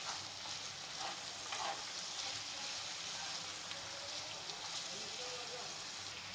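Onions and minced meat fry in a pan with a steady, faint hiss of sizzling, and a few soft clinks sound as the food is stirred.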